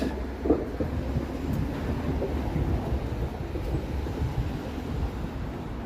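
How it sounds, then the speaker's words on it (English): A Toronto streetcar on a city street passes with a continuous low rolling rumble, steady and fairly close throughout with no voices. "Yes, these are the Toronto streetcars,"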